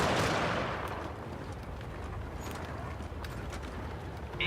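Incoming artillery fire in a combat video game, a booming blast at the start that rumbles on under a steady wash of battlefield noise with scattered faint shots.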